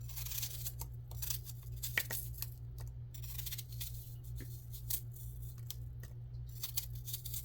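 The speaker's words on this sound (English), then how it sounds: "each piece I just cut it up into little bites like this." A knife cuts an apple into little bites on a cutting board, giving a faint, irregular series of soft clicks and taps over a low steady hum.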